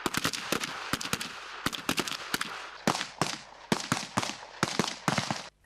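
Rifle shots on a military shooting range, fired from a standing position: a rapid string of loud, sharp cracks at irregular, close intervals, about a dozen or more, with no talk.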